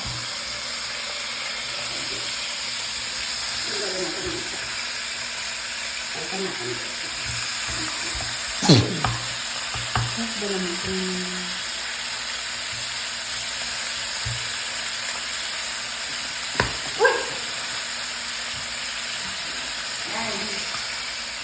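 Steady hiss of food sizzling in a pan while cooking Filipino tinola, continuous and fairly loud, with a few clinks of utensils and brief voices in the background.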